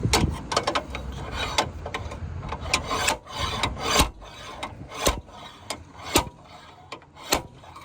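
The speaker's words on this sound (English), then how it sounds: "we're just gonna put the slide hammer here and just bend it back" A slide hammer works a crease on a crash-damaged Ford Fusion, giving repeated sharp metallic knocks and scraping rasps at an irregular pace, close and fairly loud with no talk.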